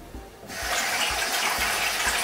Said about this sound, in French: Je vais rajouter un peu d'eau encore.